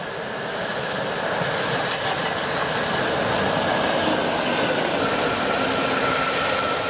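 A train running light engine roars past on a GWR branch line between Reading and Basingstoke, a loud, steady rumble of wheels and rails for several seconds with no talk.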